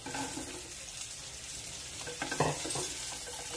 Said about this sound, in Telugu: దీంట్లో ఈ వేపేసుకున్నాం కదా, ఆయిల్లో బాగా డీప్ ఫ్రై చేసుకున్న చామదుంప ముక్కలు దీంట్లో వేసేసుకుందాం